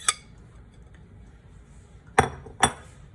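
A spoon presses cheesecake crumbs into a metal spring pan, giving three sharp metallic clinks, one at the start and two close together near the end, over a quiet background.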